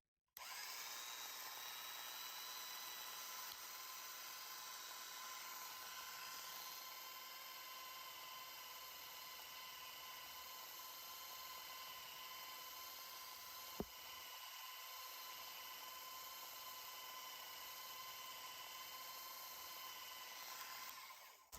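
A vintage Black & Decker sander accessory runs with a steady, high motor whine that stays unbroken for about twenty seconds, heard alone at a moderate level with one brief click near the middle.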